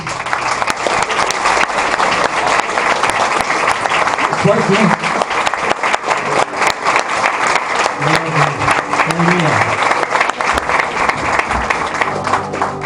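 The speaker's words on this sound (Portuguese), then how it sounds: "Uma salva de palmas para Jesus." A church congregation at an Assembly of God service applauds loudly with sustained, dense clapping, while a few voices speak briefly over it.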